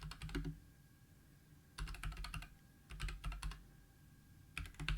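Keys clatter on a computer keyboard in short clustered bursts of rapid presses, separated by pauses, while shortcut commands are entered, recorded close and fairly quiet.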